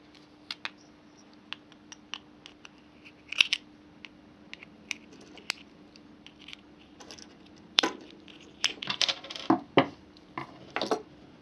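A small screwdriver pries at a plastic Mazda key fob, giving sparse light clicks and taps that build into a quick cluster of sharp plastic snaps and scrapes near the end, close and quiet.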